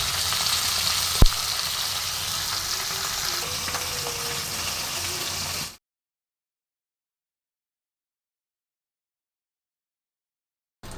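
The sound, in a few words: fish frying in oil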